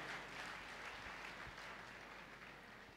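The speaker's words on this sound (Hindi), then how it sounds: "एक बार जोरदार तालियां सिस्टम के लिए सर" Hearty applause from a network marketing seminar crowd, many hands clapping in a dense, steady wash that stays fairly quiet and even, slightly softening toward the end.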